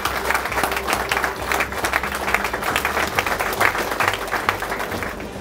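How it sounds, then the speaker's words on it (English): High school students and guests applaud at Nashoba Valley Technical High School's Engineering Academy during a governor's tour, a full, steady round of clapping from a room of people with a low hum beneath, holding at a fairly loud level throughout. "So you should all give yourselves a round of applause because this was a very competitive process."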